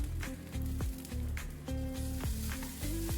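Egg pola garam masala filling sizzles in a pan while it is mixed, with a rhythmic series of stirring scrapes and squelchy pushes over a steady frying hiss, close and moderately quiet.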